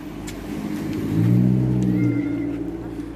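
A car passes on a road outside, its engine swelling to a peak near the middle and fading away, with a cat's meow and voices heard faintly around it.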